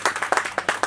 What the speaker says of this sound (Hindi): तालियां एक बार जोर से।